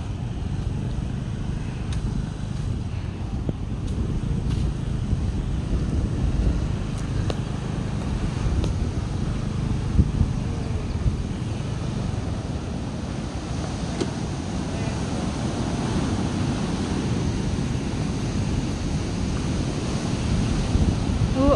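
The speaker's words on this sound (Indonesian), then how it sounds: "Ombaknya gede." Big ocean waves crash and roar on Sanggar beach in a continuous loud wash, buffeted by wind noise on the microphone.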